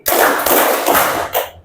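Four loud claps in a classroom clapping game fall in a steady beat, with the last coming after a slightly longer gap. Each sounds diffuse, like many hands clapping at once, and nobody speaks.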